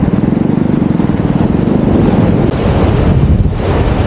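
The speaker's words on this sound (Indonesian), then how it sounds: "Anginnya lumayan, lumayan banget." Strong wind blows across Citepus beach in Sukabumi, buffeting the microphone with loud, continuous gusty roar, with surf washing faintly underneath.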